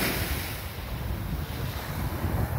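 Ocean waves wash steadily onto Blind Pass Beach in Florida, a continuous close roar of surf mixed with heavy wind noise on the microphone.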